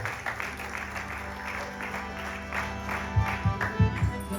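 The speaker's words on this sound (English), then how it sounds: "a big round of applause over here." An audience at a Ganesh Chaturthi festival night gives a continuous round of applause over a steady electrical hum, with a few dull low thumps near the end.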